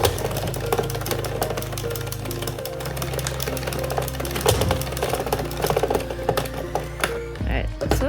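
An Addi knitting machine chatters steadily as it is cranked through a table runner, a close, continuous rattling clack over a low hum, with a voice talking over it.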